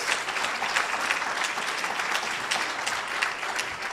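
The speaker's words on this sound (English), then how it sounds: "Give yourselves a wonderful round of applause" Audience applause at a 2018 Kwanzaa celebration at the Auburn Avenue Research Library: a dense, steady wash of many hands clapping, sustained at even loudness with no voices.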